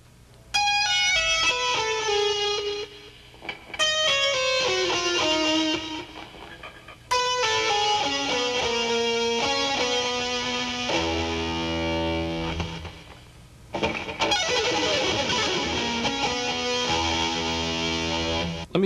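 Distorted electric guitar plays a classical-style string-skipping run slowly, clearly separated notes descending in repeated phrases with brief pauses between them, loud and close, ending in sustained chords.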